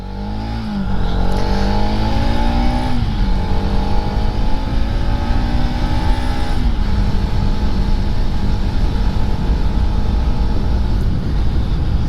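A modified Bajaj Pulsar RS200 motorcycle engine revs loud and close, rising in pitch in stepped surges and holding a high, rough roar throughout.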